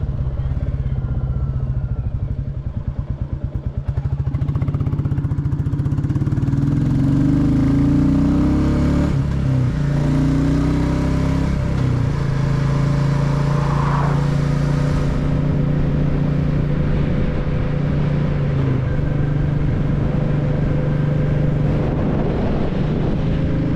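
A 2024 Royal Enfield Bullet 350 motorcycle rides downhill off the Garleton Hills toward the flat East Lothian farmland, its steady thumping engine drone close and continuous, with wind buffeting the microphone and no talking.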